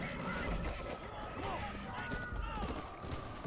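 A horse gallops in Red Dead Redemption: Undead Nightmare, its hooves drumming in a quick, steady rhythm under continuous game music and background effects, with a neigh-like call rising partway through.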